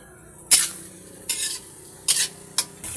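Cabbage adobo being stirred in a pan after a little sugar is added, with four or five distinct scraping stirs over a steady low sizzle, close and alone with no talk.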